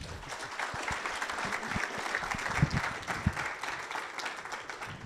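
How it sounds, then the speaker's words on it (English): Applause at a student innovation pitch event, with a moderately distant crowd clapping steadily and densely and a few louder individual claps standing out over about five seconds. "A big applause to TrackTech."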